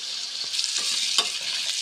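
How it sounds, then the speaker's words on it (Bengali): Potatoes fry in oil with salt and turmeric for a cabbage dish, giving a steady loud hiss with brief stirring scrapes throughout, close and without voices. "লবণ হলুদ দিয়ে আলুগুলো খুব ভালোভাবে আবার একবার ভেজে নিচ্ছি।"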